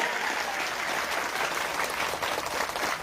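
Applause from an audience at an Islamic religious sermon gathering in Ajung, steady and dense clapping filling the whole stretch without pause.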